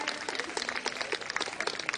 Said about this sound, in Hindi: एक बार जोरदार ताली बजा के आप उनका धन्यवाद दें।